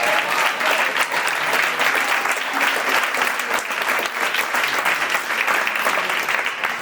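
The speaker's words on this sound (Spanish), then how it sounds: "Un aplauso también." Audience applause at a panel discussion on domestic workers and paid care: steady, dense clapping from a crowd fills the whole stretch at an even, fairly loud level.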